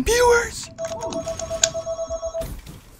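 A telephone rings indoors with a repeated electronic tone in short pulses, while a voice talks over the start and the rings continue steadily beneath.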